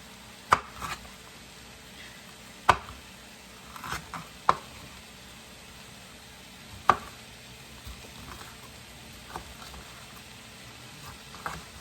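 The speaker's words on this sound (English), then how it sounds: "let's work on chopping these red bell peppers up." A knife dices red bell peppers sharply on a cutting board at an irregular pace, with single crisp knocks and short clusters, close by and without talk.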